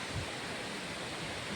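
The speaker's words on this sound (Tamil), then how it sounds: "காய்ஸ், நம்ம அருவி பக்கமாக வந்துட்டோம்." Steady roar of the Agaya Gangai waterfall at Kolli Hills, a broad, constant rush of falling water close by with no voices over it.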